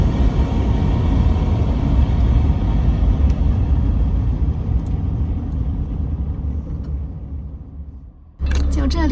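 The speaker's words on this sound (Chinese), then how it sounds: "这一大排卡车的轰鸣声" A low, continuous rumble from a row of trucks parked at a highway rest area, loud and steady before fading toward the end, with an abrupt cut at the close.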